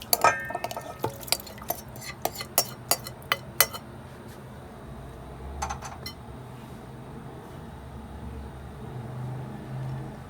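A pot and metal utensils clink and clatter in a rapid string of sharp, close knocks, then a few scattered clinks over a low background rumble, while preparing homemade beef rosh.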